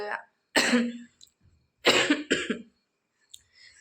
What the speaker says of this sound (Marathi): थोडासा खोकला येतोय